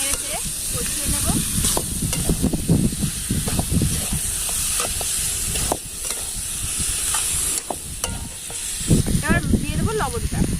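Turtle meat frying with a cooked spice masala in a pan, making a loud, hissing sizzle close by, punctuated by repeated stirring scrapes and bursts of spattering oil.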